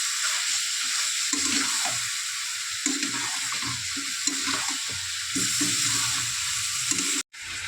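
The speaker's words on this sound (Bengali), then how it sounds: "ভালো করে এটা দিয়ে কষাবো।" Chicken tossed with spices and chopped coriander leaves sizzles steadily in a hot pan, with close, rhythmic scraping and stirring strokes over the constant frying hiss.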